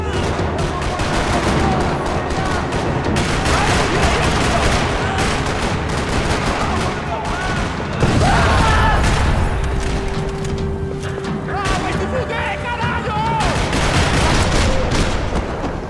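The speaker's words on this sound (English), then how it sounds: "Another parking lot rattling with gunfire." Rapid gunfire rattles across a parking lot in the video game Max Payne 3, with dense bursts of automatic shots, booms and impacts overlapping continuously at close range, plus occasional brief vocal cries.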